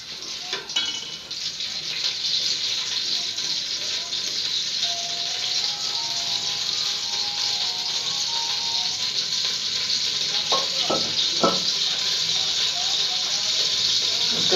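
Cooking oil heats in a pan and sizzles in a steady, fairly quiet hiss that runs throughout, with a few light clinks of utensils near the end.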